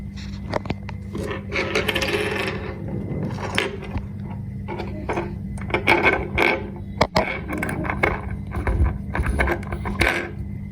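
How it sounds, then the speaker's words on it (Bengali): A bobbin case being taken out of a sewing machine, small close metallic clicks, taps and scrapes at an uneven pace, no talk. "ববিন কেস সম্পূর্ণটা তো আমি এটা আগে বের করে নিচ্ছি"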